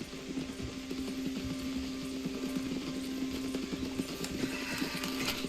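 Horse hooves clip-clop steadily at close range in Red Dead Redemption 2, a continuous rhythmic patter with some creaking tack and ambient noise underneath.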